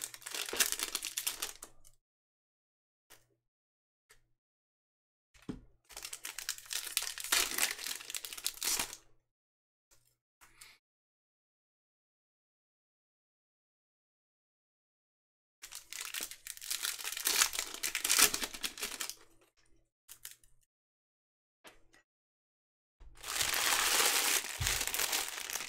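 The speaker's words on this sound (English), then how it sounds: "It's always like your knuckles cracking when you undo these cards." Topps Stadium Club 2020 baseball card packs being torn open and unwrapped, with several bursts of loud close crinkling and tearing foil separated by silent pauses.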